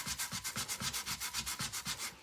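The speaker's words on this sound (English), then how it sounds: "I'm just going to use my little sanding thing." Steady rhythmic sanding of an antique mantel clock's surface, a scratchy rasp repeating in even back-and-forth strokes, close and fairly quiet with no voices.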